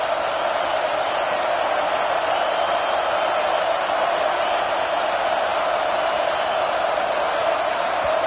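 Stadium crowd noise in the college football video game CFB 26, a dense, steady roar that holds at a constant loud level throughout.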